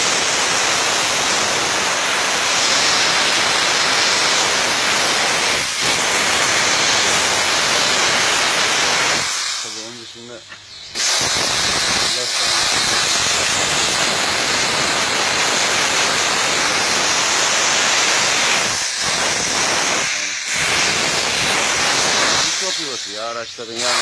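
A steam car-wash machine blasts steam while cleaning a vehicle, producing a loud, continuous hiss that fills the scene, with brief pauses where the spray stops and short bursts of speech break in.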